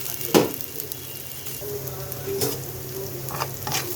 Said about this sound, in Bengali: পেঁয়াজ মরিচ রসুন সব কিছু ভাজা ভাজা হয়ে গেছে